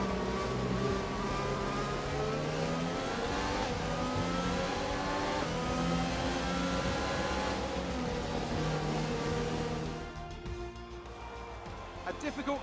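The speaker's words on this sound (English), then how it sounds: "Alright, race over. Take care of the car on the way in." An F1 2020 race car in the video game, driving back in after the race at Zandvoort, its engine whining and revving steadily with rising and falling pitch, a commentator talking over it, and the engine note dropping away near the end.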